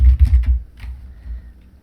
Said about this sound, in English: I hate typing on this keyboard,